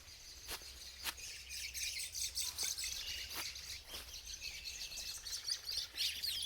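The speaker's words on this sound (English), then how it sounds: "Some birds are having fun." Busy bird chirping and tweeting fills the air beside a driveway, with sharp bright calls repeating over a steady high chorus of insects in the background.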